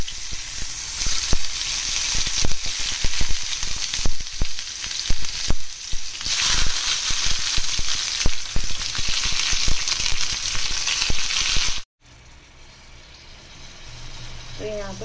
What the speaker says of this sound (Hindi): तो यहाँ पे डाल दिए हैं मैंने टमाटर, उसके ऊपर डालूंगी थोड़ा सा नमक